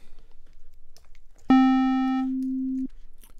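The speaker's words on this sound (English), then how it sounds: "Alright, change to a sine wave." A single steady sine-wave tone from a Massive synthesizer starts abruptly, bright at first and quickly mellowing to a smooth pure hum, holding about a second before cutting off.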